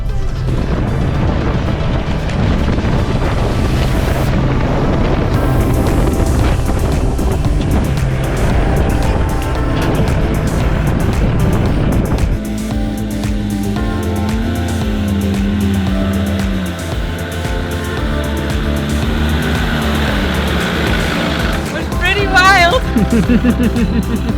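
A 4x4 vehicle works along a rural sand track in Mozambique, its engine droning and surging loudly up close with wind noise, then settling into a lower, uneven rumble, with occasional voices.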